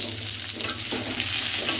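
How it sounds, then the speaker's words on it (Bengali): Onion fries in hot oil after the garlic has browned, making a close, steady sizzle with soft stirring scrapes running through it. "পেঁয়াজটা একটু লাল করে ভাজা হবে"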